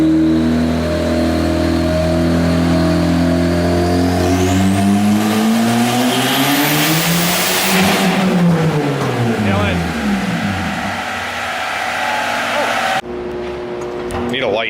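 Loud turbocharged E85-tuned car engine revving hard on a dyno, pitch climbing steadily under sustained load with turbo whine, then dropping away before an abrupt cutoff.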